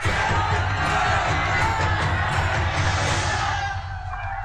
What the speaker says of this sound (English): There's a huge crowd outside.